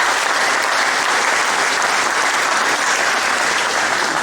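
A room of volunteers at an aviation event meeting claps in a dense, even burst of applause that stays loud and constant throughout.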